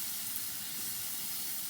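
Chopped onions sizzle in a hot pan with browned ground meat for chili con carne, a steady close hiss of frying with no talking.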